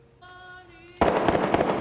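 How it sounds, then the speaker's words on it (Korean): A burst of loud, sharp gunshots and explosions outside erupts suddenly after a quieter tonal stretch in a film scene, several overlapping reports in quick succession. "그때 갑자기 밖에서 들리는 총소리와 폭발 소리에"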